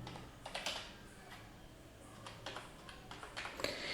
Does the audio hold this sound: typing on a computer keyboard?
yes